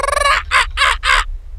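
An imagined dodo bird call: a harsh, gobbling fowl-like cry followed by three quick rasping bursts, loud and close with no other sound.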